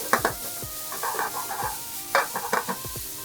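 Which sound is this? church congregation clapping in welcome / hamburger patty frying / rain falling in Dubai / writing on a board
hamburger patty frying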